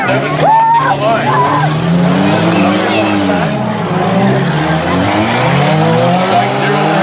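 Demolition race cars roar around a dirt track in Orangeville, Ontario, loud continuous engine drone rising and falling as the pack passes, with a commentator's amplified voice over the racket.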